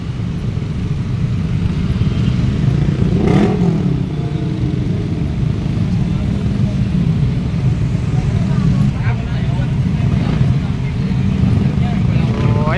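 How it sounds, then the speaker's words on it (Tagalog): Heavy stop-and-go traffic full of motorcycles and cars on the road home from Marikina City to Montalban, Rizal: a constant loud low engine rumble with passing revs, under steady nearby talk. "ang daming mga motor mga guwiks no."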